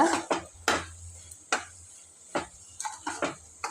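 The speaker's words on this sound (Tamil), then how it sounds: "தேங்காயோட பச்சை வாசனை போகிற வரைக்கும் இதை நல்லா கிளறணுங்க அடி கனமான பாத்திரம் எடுத்துக்கோங்க" A spoon stirs sweet coconut and sugar filling for kozhukattai in a heavy-bottomed pan, making about eight sharp scraping strokes at an uneven pace, close and clear, with quiet gaps between them.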